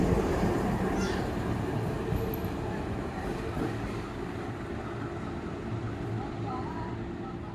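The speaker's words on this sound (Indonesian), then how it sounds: "Ya, saya kira jalur 6 ada lokomotif masuk ya." A locomotive pulls into track 6 at a busy Jakarta railway station, a steady, heavy rail rumble and rolling clatter that holds throughout at fairly constant loudness.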